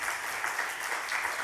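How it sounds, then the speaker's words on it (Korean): Church congregation during a Sunday worship service claps briefly, a soft, even patter of many hands heard at some distance. "박수 한번 쳐주십시오."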